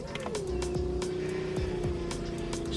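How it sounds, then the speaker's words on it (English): A secondary electric fuel pump at the rear of a turbocharged Volvo 340 whirs with a steady, faint, sustained hum after a brief rise in pitch, with scattered clicks and clatter around it. "Here is the switch for that secondary fuel pump I was talking about. This is the pump at the rear of the car, and if I turn it on, you might be able to hear it on camera."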